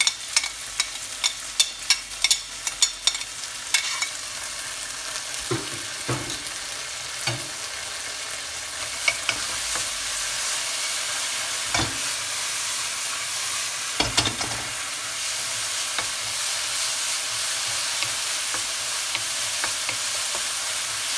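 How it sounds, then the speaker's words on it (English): Garlic, chili and black beans frying in a hot pan, a loud continuous sizzle with occasional stirring knocks and scrapes of a utensil, close up and with no talking. "So now I'm going to fry the garlic, chili and black beans together."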